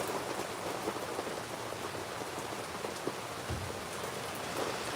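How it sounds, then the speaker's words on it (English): Steady rain falls outdoors at night, a dense, even patter on surfaces lasting throughout with no talk over it. "Is the rain screwing up the sound, guys?"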